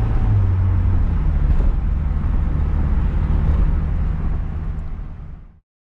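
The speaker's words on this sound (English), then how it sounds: "You can feel the car surging." A Mazda Miata with an automatic transmission and a failed ECU, its engine surging, heard as a loud, close, continuous low rumble that wavers slightly before cutting off abruptly near the end.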